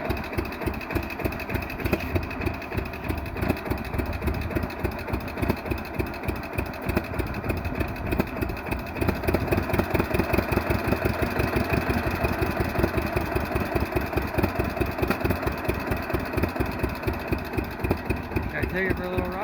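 A 1948 John Deere B tractor converted to run on propane, its engine running steadily with a rhythmic, pulsing two-cylinder beat close by, loud and continuous with no talking.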